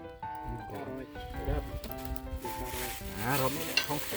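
Food is dry-roasted and stirred in a pan at an outdoor rice-field meal, with a steady sizzle running beneath people talking and voices rising over it throughout.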